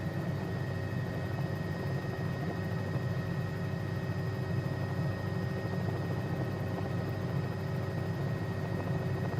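An EMS helicopter flies its approach toward a helipad, heard as a continuous, even rotor and engine drone with a steady whine on top, unbroken and without voices.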